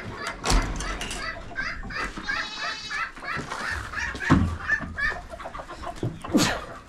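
A rooster and chickens in a Turkish backyard flock cluck and squawk in a busy, overlapping jumble, with a few louder calls standing out near the listener.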